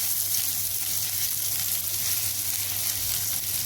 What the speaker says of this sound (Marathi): त्यामध्ये लसूण आलं परतून घेणार आहे आपण चांगलं.